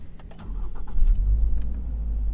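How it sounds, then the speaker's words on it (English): A 2022 Subaru BRZ engine starting up, a low rumble rising and settling into a steady idle, with a few faint clicks near the start and no talking. "Before we start the engine"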